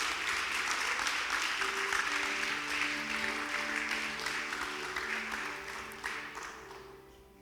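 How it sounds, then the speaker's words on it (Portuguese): A church congregation applauds Jesus in a sustained, dense wash of clapping, with sustained musical tones, likely organ or keyboard, sounding beneath it before the applause fades slightly toward the end. "Pode aplaudir a Jesus"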